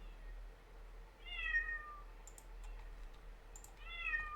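A cat meows twice, a few seconds apart, fairly quiet, with faint clicks and a low hum in the background.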